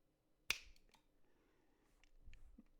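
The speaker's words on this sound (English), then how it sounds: "snap my fingers again" A single sharp finger snap rings out close and crisp, followed by quiet room tone and a few faint small sounds.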